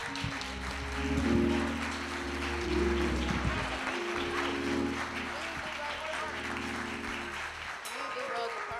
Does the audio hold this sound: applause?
yes